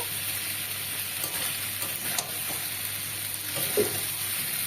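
Eggplant frying in a pan with fish swim bladder and potato, a steady close sizzle with a few soft stirring scrapes and no voices.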